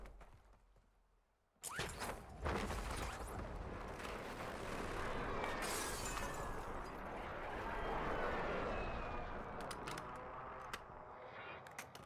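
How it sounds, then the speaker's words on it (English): An enemy airstrike in Warzone arrives as a sudden roaring blast that swells into a sustained, heavy rumble of explosions and debris lasting many seconds, with scattered crackles near the end. "Enemy airstrike in the area."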